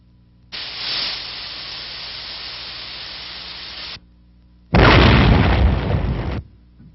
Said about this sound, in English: A TNT charge is set to explode a mine.